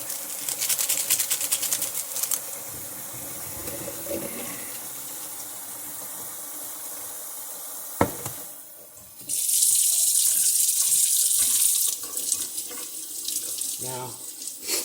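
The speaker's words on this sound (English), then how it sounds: "So, let's get some hot water running." Hot water gushes steadily from a tap into a sink in a jail cell, loud and close, with a brief louder burst of flow partway through and no talking.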